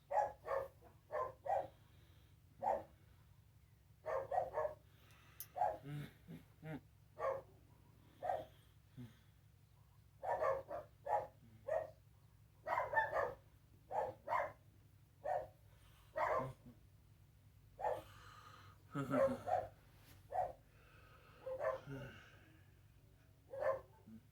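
Dogs bark repeatedly in short bursts, some near and some farther off, over a low steady hum.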